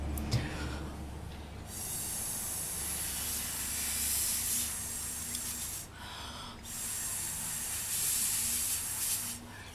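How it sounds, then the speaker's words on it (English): Two long hissing sprays of isopropyl alcohol from a spray bottle onto polymer clay, separated by a brief pause, steady and close. "I am going to spray a little bit of isopropyl alcohol"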